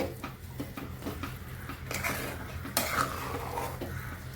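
A spoon stirs a sweet potato mixture in a pan, giving soft scraping and light clinks against the metal in an irregular rhythm, close but quiet over a steady low hum with no talking.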